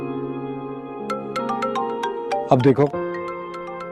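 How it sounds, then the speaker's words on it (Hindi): A mobile phone rings with a call from an unknown number, its melodic ringtone chiming repeatedly and clearly while a voice briefly speaks over it partway through. "पता नहीं किस अननोन नंबर से फोन आ रहा है"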